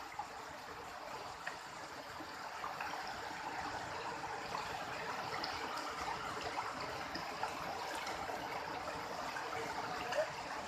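River stream flowing near the Serendah waterfall in Selangor, Malaysia, a faint, continuous wash of water with no voices.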